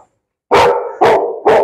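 A dog barks three times in quick succession, loud and close, each bark sharp and full with short gaps between them and no other sound.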